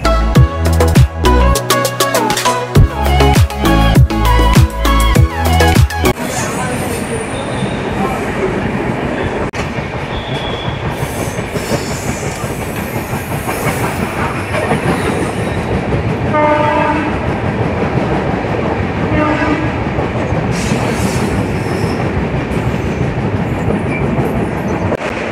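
Swarna Jayanti Express rolling across the Godavari arch bridge near Rajahmundry, with a steady, loud rumble and rhythmic rail clatter throughout, and a burst of sharper clanking and pulsing at the start.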